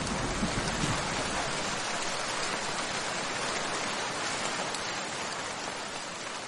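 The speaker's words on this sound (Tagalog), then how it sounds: "Alam mo may bagyo sa sobrang lakas ng ulan." Heavy storm rain pours down steadily and loudly throughout, a dense unbroken hiss of downpour with no voices.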